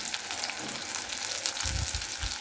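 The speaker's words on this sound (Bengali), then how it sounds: "এদিকে আমি চাপিলা মাছটা ভেজে নিচ্ছি।" Chapila fish frying in a pan: a dense, steady hiss of sizzling oil, close and even throughout, with a few soft low thumps near the end.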